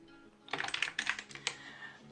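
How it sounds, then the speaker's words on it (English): A quick burst of clacky keystrokes on a loud mechanical gaming keyboard, close up, then tapering into a few scattered presses. "my keyboard's going to be a bit loud because I've got a gamer's keyboard"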